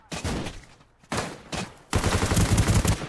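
Gunfire in the shooter game Ring of Elysium comes as three close, rattling bursts, the last one the longest and loudest, with short quiet gaps between.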